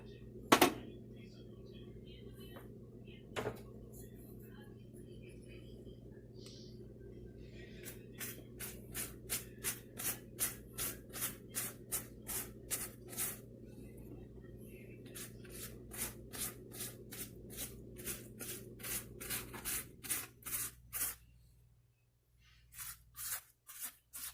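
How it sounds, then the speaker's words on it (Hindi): Pastry brush rubbing pure butter over baked closed pizza buns, a run of soft rhythmic swishing strokes close up, steady repeated brushing with a short pause near the end. "तो अभी जो है वो हम इस पे ब्रश कर लेंगे बटर का"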